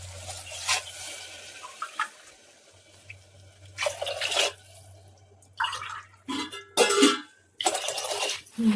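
Three tumblers of water are poured into a cooking pot of rice and lentils, heard as several separate splashing gushes with pauses and small clatters between them, close by and with no talking.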